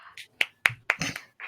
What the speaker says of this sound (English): Yes, I clap as well.